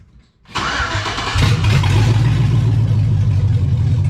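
An LS-swapped car engine cranks briefly and catches, settling into a loud, steady rumbling idle close by, with no talking.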